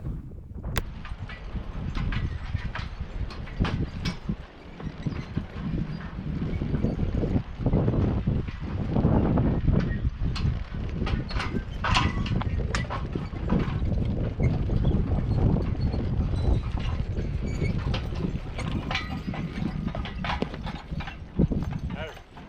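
Draft horses plowing a field clip-clop steadily, their hooves thudding in an irregular rhythm amid rustling and wind, with someone talking over much of it.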